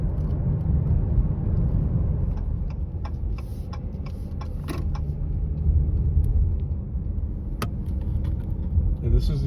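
Steady city road traffic in Houston, a continuous low rumble of car engines and tires heard from inside a moving vehicle, with faint ticking clicks and scattered higher noises over the constant drone.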